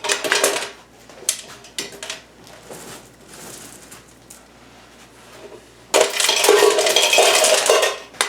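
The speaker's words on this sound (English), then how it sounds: "The rocks keep going in the little part, the little can." Gravel rocks rattling and clattering as they pour into a small paint can rocket stove, loud bursts of scraping pebbles with quieter handling in between and a heavy final pour.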